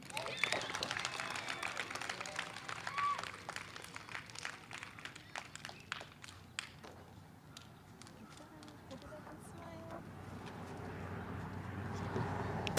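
Audience applause at an elementary school awards ceremony: scattered claps build into a steady round of clapping under murmuring crowd voices, with a room-filling, moderately distant feel.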